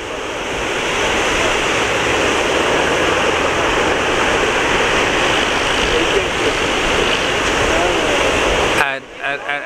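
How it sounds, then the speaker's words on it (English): Big waves churning through a tidal channel, a constant loud roar of surf and rushing water with wind buffeting the microphone, ending abruptly in a few muffled bumps. "The waves are getting big."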